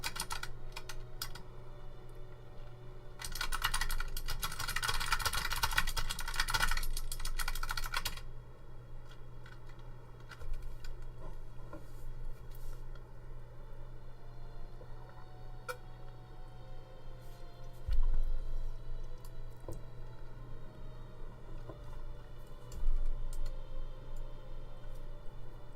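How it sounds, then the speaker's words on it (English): Keyboard typing and mouse clicking at a computer during a livestream, a steady patter of close keystrokes and clicks over a constant low hum, with a denser burst of activity early on. "I didn't realize how loud my typing and clicking was."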